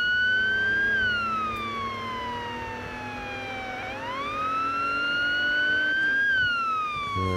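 A police car's yelp siren in a GTA roleplay city drive, loud and close, its wail sweeping down and back up in a continuous cycle with no talking over it.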